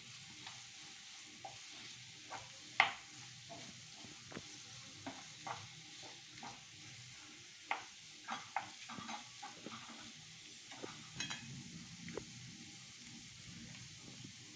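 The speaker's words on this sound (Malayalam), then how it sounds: "1/2 ടീസ്പൂൺ കുരുമുളക് പൊടി, പച്ചമണം മാറുന്ന വരെ ഒന്ന് ഇളക്കാം." Chilli powder and ground pepper fry in a pan as a spoon stirs them, giving a soft steady sizzle broken by a series of sharp scraping clicks spread irregularly through the stretch.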